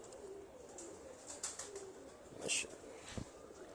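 Jugnu breed pigeons on a rooftop coo in short, soft calls, with a few brief chirps and wing sounds scattered over a faint background hiss.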